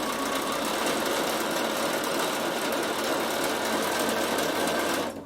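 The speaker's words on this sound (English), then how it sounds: "I'm just going to show you the triple straight stitch and I'm going to do it nice and long so you can see it." Sewing machine running a long triple straight stitch, a loud, steady rapid whirring and needle chatter held without a break, stopping abruptly at the end.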